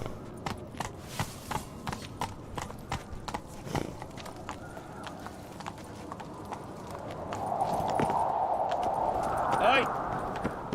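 Horse hooves clip-clop in a steady galloping rhythm in the video game Witcher 3, close and continuous, with a rising wind-like rush in the latter half and a rider's voice calling out.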